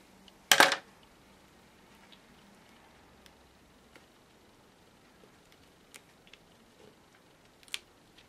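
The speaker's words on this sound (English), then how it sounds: "So just snip that in half." Scissors give a single short, crisp snip through foam tape near the start while making a Christmas card, and a few faint ticks and taps follow in a quiet room.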